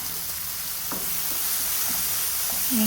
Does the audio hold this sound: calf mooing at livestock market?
no